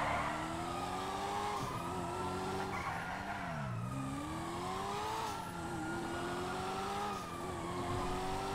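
A car races at speed through a police chase in the GTA 5 video game, with a loud sustained engine drone rising and falling in pitch and tires skidding and squealing.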